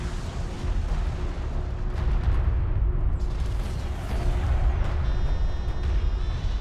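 A hostile interceptor blowing up in the real-time strategy game Homeworld: Deserts of Kharak, with booming, rumbling blasts and artillery-like bursts rolling over a dense, loud battle bed for several seconds.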